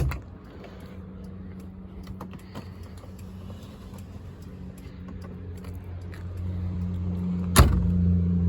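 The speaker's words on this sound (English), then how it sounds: "If I roll up the window, you can see here." A window on a 1980s VW Gol rolls up inside the car: a steady low motor-like hum builds over several seconds under faint cabin noise, ending in a sharp clunk as it closes.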